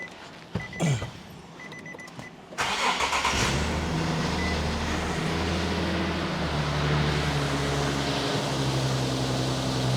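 A Nissan 370Z engine cranks briefly after some clicks and handling noise, then catches and settles into a loud, steady idle with a slight surge.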